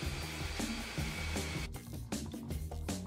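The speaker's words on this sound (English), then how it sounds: "Here I'm drilling a test hole" A power drill boring a test hole in wood while small tables are built, giving a loud, steady motor whine close by that runs without a break for a few seconds.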